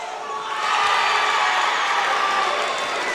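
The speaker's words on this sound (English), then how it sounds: "Comstock Park cheering for maybe some of their seconds and thirds, scoring some points" Comstock Park fans at a high school basketball game send up a broad, sustained roar of cheering that swells after a moment and holds steady, loud and diffuse across the gym.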